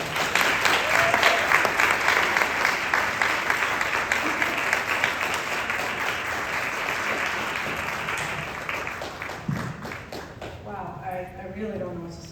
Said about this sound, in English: Let's please give a huge round of applause to Professor Lisa Noggle.